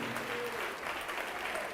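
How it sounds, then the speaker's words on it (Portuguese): A church congregation clapping in praise of the name of Jesus, a steady wash of many hands applauding at an even, moderate level, with a faint voice underneath. "Vamos aplaudir mais ao nome de Jesus"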